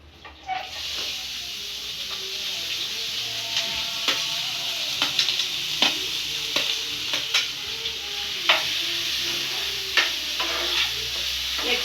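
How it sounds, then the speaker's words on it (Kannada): Chopped vegetables, beans among them, sautéing in a hot pan for homemade momo filling, a steady close sizzle broken by repeated scraping stir clicks throughout, with no talk. "ನೀವೇನೇನು ಚಾಪ್ ಮಾಡಿ ಇಟ್ಕೊಂಡಿದ್ದೀರೋ ಅದನ್ನೆಲ್ಲ ಒಂದ್ಸರಿ ಒಗ್ಗರಣೆ ಮಾಡ್ಕೊಳ್ಳಿ"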